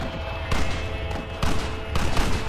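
Gunfire in the Red Dead Redemption game, dense rattling volleys of shots in bursts, loud and close, with a battle din underneath.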